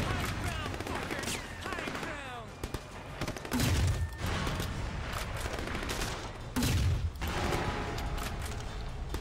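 Bursts of gunfire and heavy grenade launcher blasts in the video game Sleeping Dogs, with rapid shots and two deep, booming explosions amid continuous chaotic action noise; a player talks between the shots.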